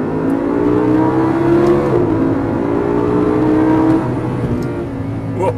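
A 2014 Audi R8 V10 Plus coupe engine revs hard inside a tunnel, a loud sustained roar with rising and falling pitch and heavy echo throughout, no talk over it.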